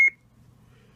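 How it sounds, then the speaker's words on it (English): A custom lightsaber gives one short, high electronic beep when its sound font is switched, followed by near silence. "one beep puts you on a mute sound"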